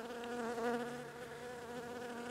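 A dense, steady insect buzz from many elderly honey bees droning together close by at a farm beehive, with a wavering pitch and no voices.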